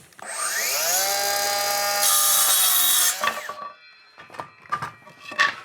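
A power saw cutting 1x4 wood boards for DIY shelves spins up with a rising whine, holds a loud steady cut for a couple of seconds, then winds down into a few short clattering knocks as the wood is handled.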